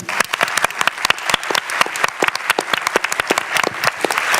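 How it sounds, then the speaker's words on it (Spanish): An audience at a science event in Valparaíso gives sharp applause, individual claps distinct and close, irregular and fairly loud across the whole stretch. "Queremos darles un buen y gran aplauso a todos ustedes hoy"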